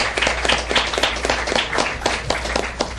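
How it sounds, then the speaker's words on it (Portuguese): Audience at a Brazilian law lecture on civil liability applauds the speaking professors, a steady dense clapping from a room full of people that holds at an even level throughout. "Eu gostaria de pedir uma salva de palmas aqui para os professores Pablo e Guilherme."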